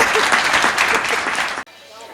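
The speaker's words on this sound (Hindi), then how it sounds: "ताली बजा दे एक बार जोरदार" Loud, dense applause from a live audience at a Hindi comedy poetry gathering (hasya kavi sammelan), sustained for about a second and a half before cutting off abruptly into quiet room tone.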